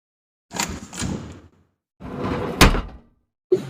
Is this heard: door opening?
yes